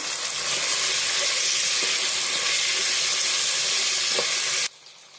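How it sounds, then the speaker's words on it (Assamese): Chicken sizzles steadily in a hot pan after cumin powder and chicken masala are added for a local chicken curry with pumpkin, a loud continuous frying hiss with faint stirring clicks that cuts off abruptly near the end. "এতিয়া মই জিৰা গুৰি আৰু চিকেন মছলাখিনি ইয়াতে এনেকৈ দি দিম। দি পেলাই অলপ দেৰি ভাজিম।"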